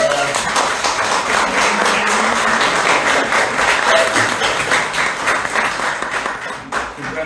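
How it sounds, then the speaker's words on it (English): Audience applause for local artists at an art exhibition launch in a small space, a steady, loud wash of many hands clapping that fades slightly near the end, with some voices faintly mixed in. "put up your hands so we can all give you a round of applause"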